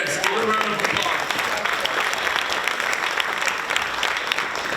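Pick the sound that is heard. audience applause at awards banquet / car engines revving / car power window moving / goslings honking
audience applause at awards banquet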